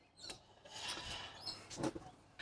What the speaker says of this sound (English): You can hear that little bit of rubbing of the brake shoes there.